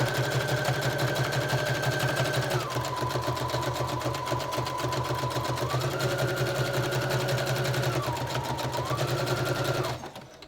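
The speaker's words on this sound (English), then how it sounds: "Okay, so I'm gonna sew this on." A sewing machine stitches fabric onto a junk journal page, its steady rapid needle chatter running close and loud for about ten seconds, shifting pitch slightly with speed, then stopping; no talk.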